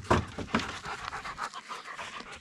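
A large dog pants close by in quick rhythmic breaths, loud at first and then easing into a steadier, fainter rhythm, heard alone outdoors.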